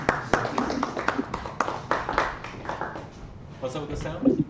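Light, sparse golf clap at a society's annual general meeting, a few soft hand claps scattered under ongoing conversation in a room.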